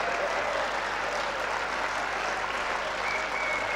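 Young audience members at a university poetry recital break into steady, sustained applause, a dense wash of many hands clapping throughout.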